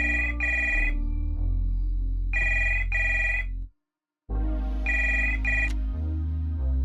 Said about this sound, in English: I dial my sister's phone.